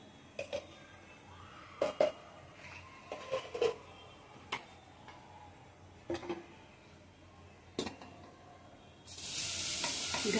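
Grated carrots sizzle gently in ghee for gajar halva, with a spoon stirring and scraping the pan in occasional sharp knocks, and a louder hiss rises near the end.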